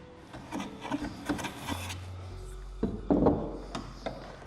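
A hand plane shaves a board clamped in a vise, giving several rasping wooden strokes with short pauses and some handling knocks, close and moderately quiet.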